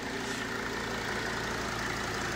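Diesel engine of a Mercedes CLK 270 CDI coupe running steadily at full power after an EGR valve cleaning, a continuous close low rumble with a mid-range drone and no talk.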